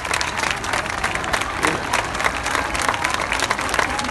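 Crowd applause at the inauguration of the Gran Café de la Parroquia, dense and steady throughout with a few scattered voices mixed in.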